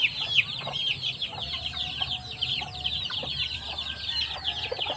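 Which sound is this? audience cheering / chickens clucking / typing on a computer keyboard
chickens clucking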